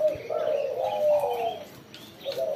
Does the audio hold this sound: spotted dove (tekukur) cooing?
yes